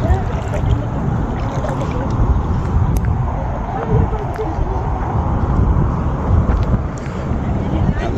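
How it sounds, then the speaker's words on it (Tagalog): Wind blustering into the microphone with a constant rough rumble, mixed with lapping water and some indistinct voices. "Sarap ng hangin dito."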